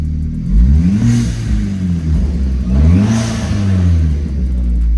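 A Hyundai Genesis Coupe with a newly installed intercooler and blow-off valve, revved twice close by, each rise in engine pitch ending in a sharp airy whoosh as the valve vents.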